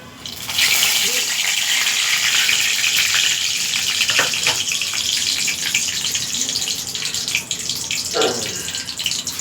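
Panch phoron stirred and frying in oil, making a continuous loud hiss with a few soft scraping sounds of stirring over about nine seconds.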